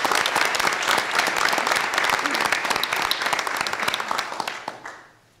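A meeting audience applauds for a university track and field coach, close, distinct hand claps in a brisk patter that thins out and stops near the end.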